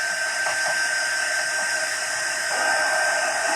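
A hair dryer blows steadily and close for the whole stretch, drying freshly painted pink Christmas decorations on a remade Walmart Santa bust, its even airy roar holding constant with no talking.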